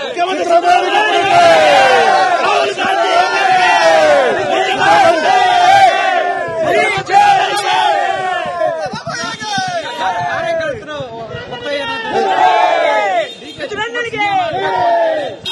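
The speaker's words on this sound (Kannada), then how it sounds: "ಡಿಕೆ ಶಿವಕುಮಾರ್ಗೆ ಜೈಕಾರ ಹಾಕುವುದು ಕಾಂಗ್ರೆಸ್ ಪಕ್ಷದ ಕಾರ್ಯಕರ್ತರ ಸಂಪ್ರದಾಯ" Congress party workers in a large crowd chant and shout cheers for DK Shivakumar, loud and sustained, with overlapping voices rising and falling throughout.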